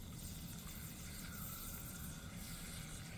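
Hot liquid sizzles as it is slowly poured into a pan, making a steady, dense hiss with a low bubbling undertone that holds evenly throughout.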